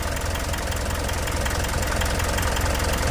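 A Mitsubishi 4M42 diesel engine, after injector trouble linked to a missing fuel filter, idles just after starting, a loud, dense, steady clatter with constant rhythmic knock and no voices.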